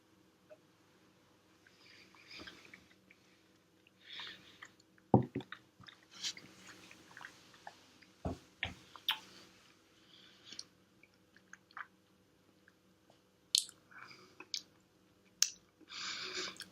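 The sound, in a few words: tasting Jura Prophecy whisky in the mouth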